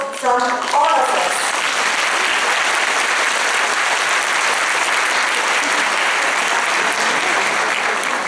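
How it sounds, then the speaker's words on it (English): Audience at a school Parents' Day event giving a big round of applause for young pupils, steady dense clapping that fills the whole stretch at even loudness. "really deserve a big round of applause from all of us."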